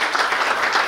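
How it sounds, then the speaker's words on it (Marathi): An audience at a diamond jubilee celebration claps in applause, a dense, continuous patter of many hands held at an even level for a brief moment, without speech. "जोरदार टाळ्या होऊ द्या"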